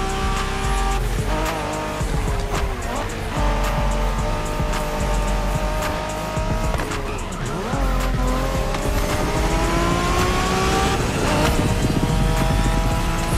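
Race cars from The Crew Motorfest tearing through a Japanese street race, engines droning loud and steady over a bed of music, with tires squealing and skidding through corners throughout.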